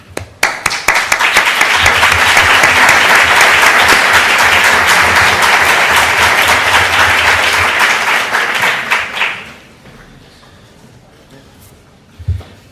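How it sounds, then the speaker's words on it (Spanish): Loud, sustained audience applause at the opening session of an education lecture, building quickly and holding strong for several seconds before stopping abruptly, followed by a quieter pause and a brief bump of sound near the end. "creo que le debemos un merecido aplauso"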